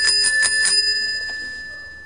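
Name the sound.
tricycle bell ringing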